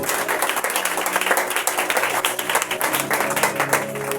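Dense applause fills a church as the congregation claps for Jesus, with loud, close, rapid clapping continuing throughout under a faint low hum.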